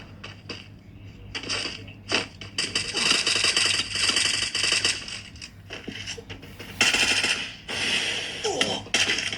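Bursts of rapid gunfire in the game Free Fire, sharp cracks and rattling volleys coming in clusters with short pauses between them.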